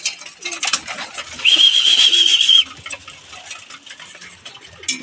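Pigeons coo softly amid scattered rustling and pecking, with a brief high whistle partway through and no speech.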